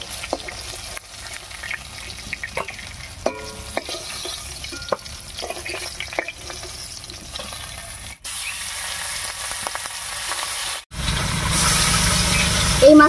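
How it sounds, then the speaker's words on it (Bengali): Fish pieces fry in oil in a village kitchen, a continuous sizzle with scattered stirring clinks and pops, growing louder and harsher toward the end. "এই মাছ কটা ভাজা হতে থাক,"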